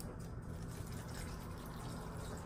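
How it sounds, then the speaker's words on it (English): Water pours steadily into a cooking pot, a continuous rushing splash that stays even and fairly soft throughout with no talking. "add some water"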